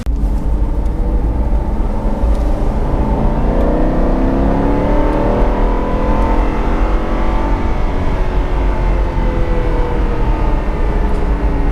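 Aston Martin V8 Vantage on its stock exhaust, driven on the road: a steady, continuous engine drone with a light, buzzy whir and gentle rising and falling pitch, loud and close throughout with no talking.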